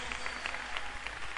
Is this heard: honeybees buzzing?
no